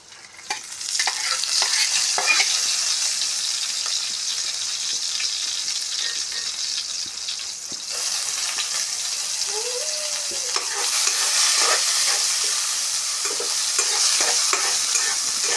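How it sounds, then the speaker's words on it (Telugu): Dried prawns frying in a spoonful of hot oil hiss in a continuous, loud sizzle, with spatula stirring clatter and a surge in intensity partway through, no one speaking. "ఆయిల్ హీట్ అయిన తర్వాత రొయ్యలు ఇందులో వేసుకొని ఫ్రై చేసుకున్నాం"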